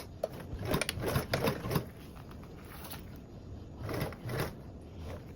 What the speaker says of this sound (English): along this short edge, you will sew with a 3/8 seam allowance